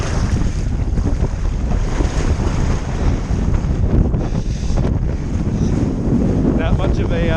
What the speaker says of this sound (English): So a whole lot of wind right now.